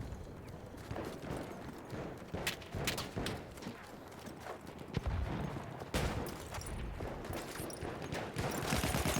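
Rapid gunfire bursts in a 4K video game played on an RTX 2080, dense irregular shots and mechanical clatter at moderate loudness running throughout.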